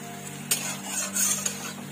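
Onions softening with salt in a cooking pan for chhole are stirred with a utensil, giving a few light scrapes and clinks over a low, steady background.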